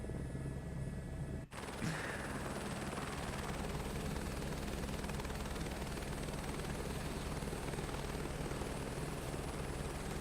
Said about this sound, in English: we will be hopping in the Sky Crane